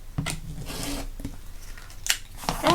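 Fabric pieces for a quilt block being cut, with a few short, crisp snips and rustles spaced apart, fairly close and quiet.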